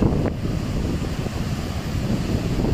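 Strong monsoon wind buffets the microphone on a beach at a coastal village, Batu Buruk, with surf churning steadily beneath a constant roaring gust.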